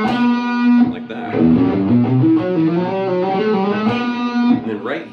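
Distorted electric guitar plays a 1987-era lead lick with neighbor-tone runs, the notes sounding loud and close in a steady melodic line for about five seconds with no talking.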